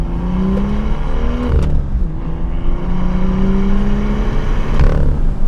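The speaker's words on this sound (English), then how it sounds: "it's a twin scroll single turbo that makes some of the best over rev braps that you'll ever hear. Beautiful burbles too" A BMW M2 with a twin-scroll single-turbo engine revs and falls back, giving burbling pops and over-rev braps. The engine is loud and close and the revs rise and drop twice.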